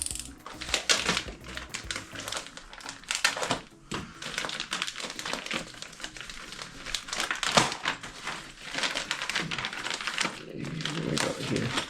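Packaging inside a Yokomo YZ-2 870C Super DogFighter RC car kit box is opened, with close crinkling plastic and paper, rustling and quick tapping handling noises running continuously.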